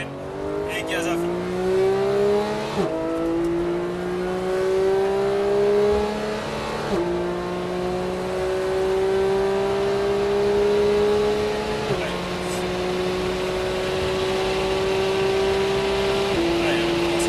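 A Porsche 991 GT3 at full throttle on the Paul Ricard circuit, its engine note climbing loud and close through several gears, each upshift marked by a brief dip before the pitch rises again.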